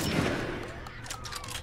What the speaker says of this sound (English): Am I supposed to keep shooting?